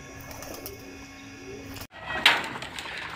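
Racing pigeons coo softly in a loft while being fed, low murmuring calls under a steady background hum, with a brief knock or door-like sound midway.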